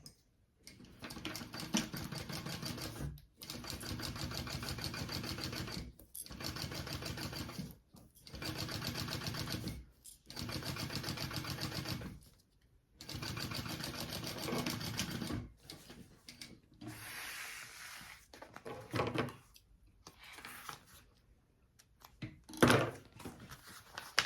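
A sewing machine stitches a bag seam in bursts of fast, even whirring, several runs of a few seconds each split by short pauses, followed by softer handling knocks and shorter stitching at close range.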